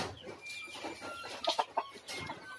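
Rhode Island Red hens and rooster cluck in short, close bursts, with a few sharper calls standing out against background noise.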